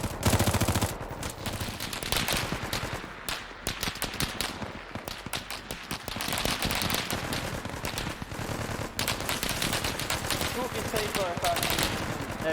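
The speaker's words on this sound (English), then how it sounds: "the gunshots in the distance actually sound very realistic" Dense gunfire from a tactical shooter video game: machine-gun bursts and single shots rattle continuously, sounding somewhat distant yet full, with brief dips between volleys.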